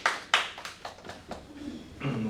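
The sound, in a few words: congregation clapping in church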